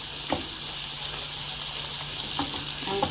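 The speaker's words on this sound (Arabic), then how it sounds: "كده الثوم اهو يتحمر يا جماعه، يا دوبك ياخد لون بس" Garlic sizzles in a pan with an even, steady hiss, broken by a few soft stirring clicks.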